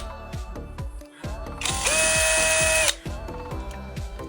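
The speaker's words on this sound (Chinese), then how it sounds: "咱们只需要把这2颗螺丝给它拆了" An electric screwdriver or drill whirs steadily for about a second while backing out a screw from the lock on a wooden bedroom door, with faint handling clicks before and after.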